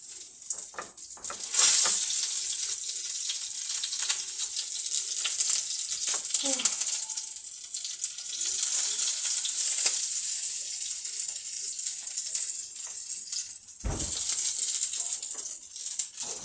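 Korean donggeurangttaeng jeon sizzles steadily in a hot oiled pan, a continuous close frying hiss with soft spatters and a brief clatter of a utensil near the end, no talking.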